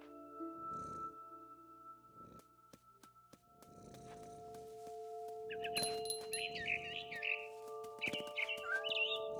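A mama bird chirping in a tree in the game What Remains of Edith Finch, with short bright tweets and trills that cluster toward the end over soft rustles and low steady tones.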